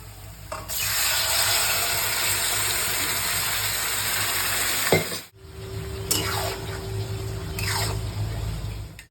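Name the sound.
stirring and sizzling goat liver curry in a pan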